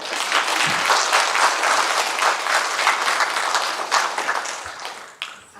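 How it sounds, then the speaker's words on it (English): A conference audience at a closing panel session claps together in a dense, steady burst of applause lasting several seconds before it thins and tapers off near the end. "can I invite everybody to clap your hands?"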